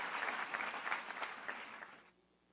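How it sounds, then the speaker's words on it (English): Audience applause in a seminar hall, a dense burst of clapping from a crowd that holds steady for about two seconds and then cuts off. "Give a round of applause."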